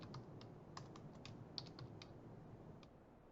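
Code typed on a computer keyboard during a class on programming and complex numbers, a quick irregular patter of soft key clicks with nobody speaking.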